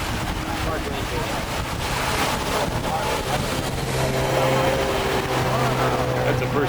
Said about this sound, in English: That's the first speedboat we've seen on the river.